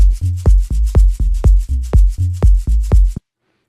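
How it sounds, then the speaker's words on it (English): A low-pitched shaker sample for an organic house track repeats in a steady loop, about a dozen even swishing strokes, close and loud, with no other sound. "It sounds pretty low for a shaker sound"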